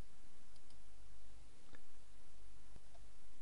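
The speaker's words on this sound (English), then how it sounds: "Do right click and copy." A computer mouse gives a couple of faint, sharp right clicks to copy, spaced about a second apart over a low steady room hiss.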